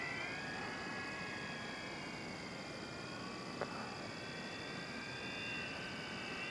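An FMS Maule 1500mm RC plane drones overhead on a morning flight, a steady electric motor hum with a whining tone holding at even loudness throughout, heard from a distance outdoors.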